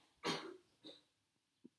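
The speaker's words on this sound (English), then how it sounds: "pardon the coughing" A person coughs once, sharp and breathy, then gives a smaller throat-clearing cough and a short faint catch, all quiet and close in an otherwise still room.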